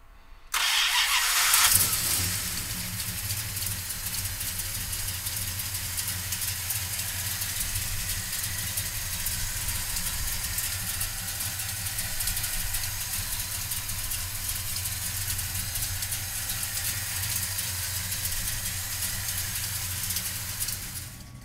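A 1969 Plymouth Road Runner with a 383 V8 cranks briefly, catches with a loud burst, then settles into a steady, rumbling idle that runs on evenly for about twenty seconds, close and without talk.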